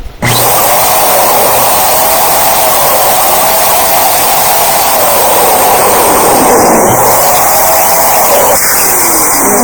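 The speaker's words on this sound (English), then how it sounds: "we take the 2 balloons and then we put them on our electric pump" Electric pump inflating balloons, a loud, steady motor whir with airy rushing that runs continuously throughout, briefly dipping and changing pitch near the end.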